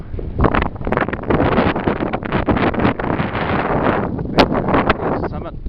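Breezy wind on a mountain hike near Lake Angelus, buffeting the microphone with steady loud rumbling gusts throughout.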